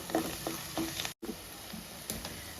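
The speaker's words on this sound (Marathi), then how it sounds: "हे बेसन पीठ तेलामध्ये छान परतून घ्यायचं" Gram flour and spices being roasted in oil on a low flame for a spicy mutton curry, giving a quiet steady sizzle with soft stirring scrapes and a brief dropout midway.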